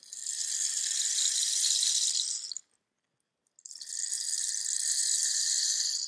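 A rain stick tipped to imitate light rain gives a steady, close pattering hiss for over two seconds, goes silent briefly, then pours again with the same soft, even trickle.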